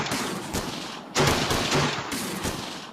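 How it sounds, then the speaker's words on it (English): Gunfire erupts from a jail during the 1946 Battle of Athens, Tennessee: dense, rapid bursts of shots crackle in overlapping volleys with no pause, loud and sustained across the whole moment with no voices. "And gunfire erupts from the jail."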